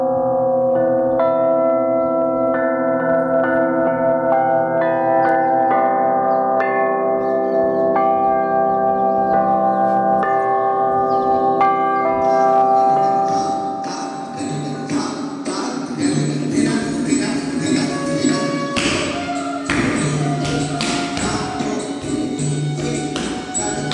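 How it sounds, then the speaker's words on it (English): Musical bells, played by a woman at an outdoor art gathering, ring in layered sustained tones that build into a louder, denser shimmer of overlapping strikes partway through, with no talking. "hypnotizes us with her musical bells"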